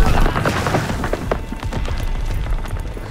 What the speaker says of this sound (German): Granate geworfen.